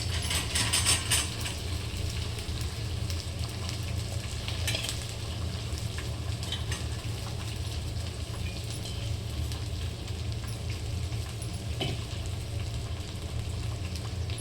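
Okra sizzles steadily while fried in a pan, a continuous crackling fry with occasional scraping and stirring clatter, close and moderately loud with no talking.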